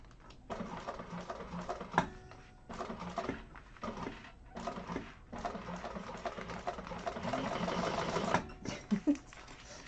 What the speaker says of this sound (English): Oh, now I'm sewing through my tape.